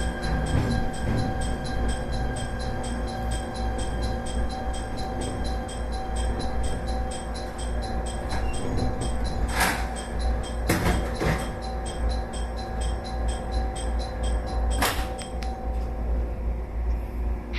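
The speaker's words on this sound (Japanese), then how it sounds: "すぐにバックでホームに進入します。" A train backing slowly into the platform at a switchback station on a steep grade, with steady low rumble and wheel noise, a constant hum and a few sharp metallic clanks and squeals standing out alone.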